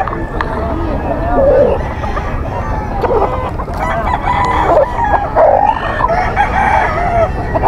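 Several gamefowl roosters at a busy outdoor pet market crow loudly and cluck over and over, overlapping with each other, while people talk nearby throughout.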